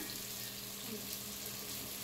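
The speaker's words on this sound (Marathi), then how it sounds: "अशाच मी सगळ्या तळून घेतलेल्या आहेत." Masvadi frying in hot oil, a continuous soft sizzle and crackle that holds steady at moderate volume with no talking.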